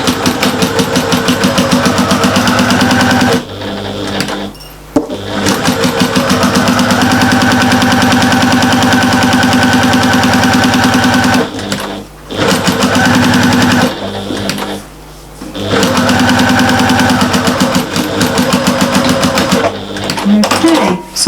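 A sewing machine runs in long, fast bursts while stitching the sides and bottom of a fabric bag, a dense mechanical whir that stops briefly several times before starting again.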